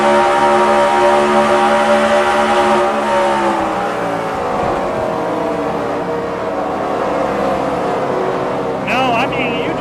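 A race car engine screams at redline, a loud sustained harmonic whine that shifts pitch as it passes, with a voice talking over it and a brief higher rev burst at the end.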